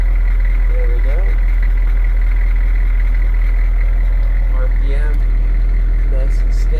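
A Humvee HMMWV M1152A2 sits idling under restoration, a steady low engine hum holding a stable rhythm, with faint voices and small mechanical sounds over it.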